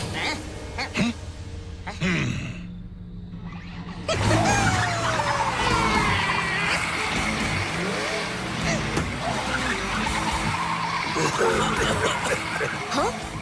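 Cartoon vehicle from Little Singham driving and skidding, an engine roar with a tire-squeal sweep that swells loudly after a brief dip and then runs on continuously, with voices talking over it.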